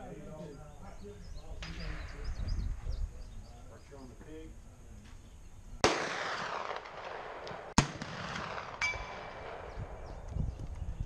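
Single-shot cartridge rifle fired at a ram target in a rifle match, one sharp loud report followed by a second sharp crack a couple of seconds later, with someone talking before and between the shots.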